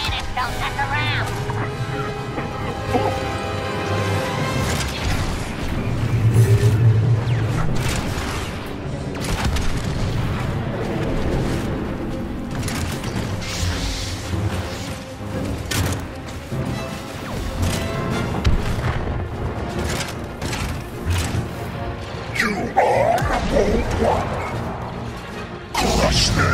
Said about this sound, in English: Those cannons don't mess around!